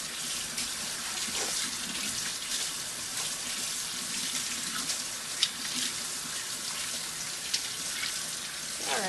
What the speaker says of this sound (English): Okay, now I'm going to wash my hands again,